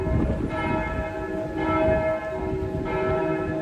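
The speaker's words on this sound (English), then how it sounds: "at midday the bell tolled 3 times, then stopped, 3 more times, then stopped, 3 more times, then stopped" Sacré-Cœur church bell in Montmartre, Paris, ringing out in three clear resonant strokes with long sustained hum between them, set against steady outdoor street ambience.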